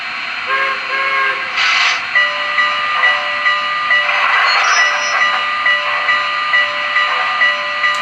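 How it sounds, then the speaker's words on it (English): An MTH PRR E6 Atlantic model steam train rolling with a steady hiss, short whistle-like tones and faint clanks of coupler slack as the cars bunch and stretch. "it does have that coupler slack sound that you guys just heard"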